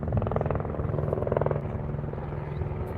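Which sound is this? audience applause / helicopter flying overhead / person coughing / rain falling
helicopter flying overhead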